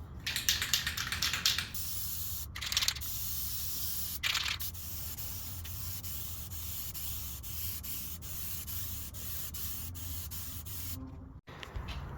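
Spray gun laying a coat of color paint onto a panel of a crashed NC Miata being rebuilt in a small home shop. A steady, continuous hiss runs throughout with a few brief louder bursts near the start and a short drop near the end.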